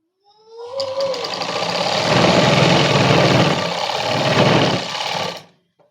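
A sewing machine stitches a Punjabi dress in one steady, loud run of about five seconds, its rapid mechanical chatter starting and stopping cleanly with no voices.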